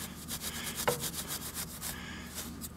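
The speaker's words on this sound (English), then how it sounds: "Work the solvent in using your shark or another scraper of some sort." A shark scraper works gel solvent into a carpet stain, making a soft, rhythmic scrubbing rasp in quick repeated strokes, close and fairly quiet with no talking.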